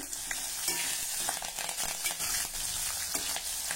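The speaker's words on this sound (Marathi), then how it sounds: "आता यामध्ये चिमूटभर हिंग घालूया। 2 ते 3 सुक्या लाल मिरची, 2 हिरव्या मिरची।" Asafoetida with dried red chillies and green chillies frying in hot oil alongside urad dal, a close, busy crackling sizzle with quick stirring scrapes, no talk.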